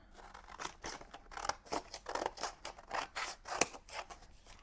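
Scissors cut up pages of a mixed media art journal in a series of close, crisp snips, one after another in an uneven rhythm with short pauses, loud and alone without talk.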